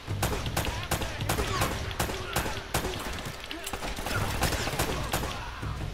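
Video game gunfire in Uncharted: Drake's Fortune crackles in rapid, repeated bursts of sharp shots over a busy combat background at moderate level.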